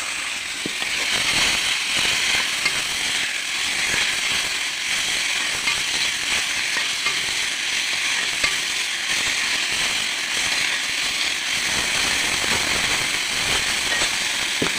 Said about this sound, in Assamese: ঢেকীয়াখিনি এনেদৰে ভাজি লৈছোঁ।